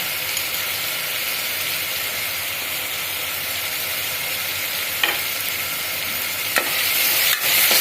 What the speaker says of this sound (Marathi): त्याच्यामुळे कांदा आणि टॅमॅटो पटकन भाजून होईल.